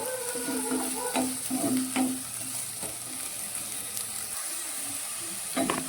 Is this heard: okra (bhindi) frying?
yes